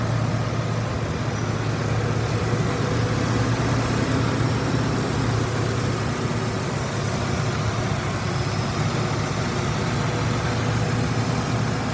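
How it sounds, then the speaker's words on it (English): A 1996 Ford F-150 XL pickup's inline-six engine idles steadily and evenly, a low continuous rumble that holds the same pitch and loudness throughout with no other sounds. "It idles smooth, revs up nice."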